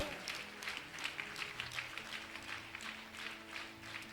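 A church congregation applauds in praise of the Lord, a crowd clapping in a steady rhythmic pulse at moderate distance with faint voices mixed in.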